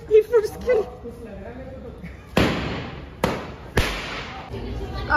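Three loud, sharp firecracker bangs burst close by in quick succession at a Dussehra celebration, each leaving a brief crackling tail, after some faint voices.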